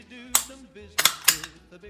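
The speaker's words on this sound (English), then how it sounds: "Comparing trigger pull and reset of all of these firearms." Dry-fire trigger pull and reset on a Springfield Echelon pistol, a few sharp, close mechanical clicks, one and then a quick pair, over faint background hum.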